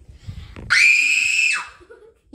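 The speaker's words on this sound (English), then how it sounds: "you have to scream" A single loud, high, sustained scream of almost a second from a player during an Atmosfear board game, rising out of quiet murmuring, with a brief voice starting again after it.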